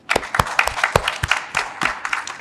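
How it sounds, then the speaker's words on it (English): Scattered hand claps from an audience welcoming a panel at a solar investment event, a few distinct uneven claps close by rather than a full roar. "We'll request if we can welcome with a big round of applause."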